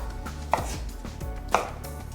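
A knife cuts through roasted duck glazed with soy and honey, making crisp chopping strikes on a board about once a second, close and clear with no talk.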